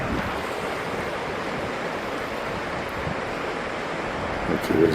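Ocean waves washing ashore on an empty stretch of Folly Beach near Charleston, South Carolina: a steady, broad wash of surf with wind noise across the microphone, continuous and fairly close, with no talking over it.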